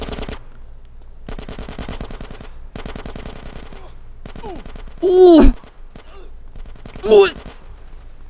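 Rapid automatic gunfire in the video game GTA San Andreas comes in several long bursts, loud and steady, broken by short pauses, while a voice cries out twice.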